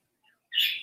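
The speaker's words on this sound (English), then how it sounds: "Listening to the bird chirp." A single bird gives a short, bright chirp, preceded by a fainter faint peep, heard close and alone in quiet surroundings.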